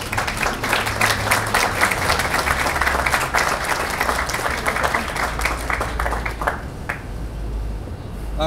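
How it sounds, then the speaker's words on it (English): Wedding guests at Abby and Ryan's ceremony break into loud, sustained applause, a dense crowd of clapping hands that carries on for several seconds before tapering off near the end. "let's hear an applause."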